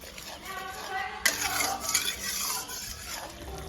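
A spoon stirs Bengali masala with whisked yogurt and tomato in a pan, giving soft scraping and clinking over a low sizzle, with one sharper metallic knock partway through.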